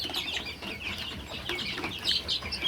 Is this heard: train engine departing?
no